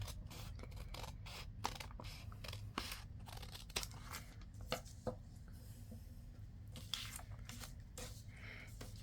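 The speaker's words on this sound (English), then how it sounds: "So you can just do it with your scissors, or you can do it with your trimmer." Scissors snipping through a paper junk-mail tag to cut out a pocket opening, a series of quiet, close crisp cuts and paper rustles at an uneven pace.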